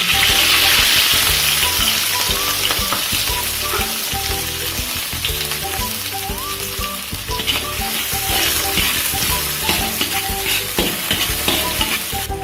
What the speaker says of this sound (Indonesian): Sekarang kita tumis bumbunya dulu.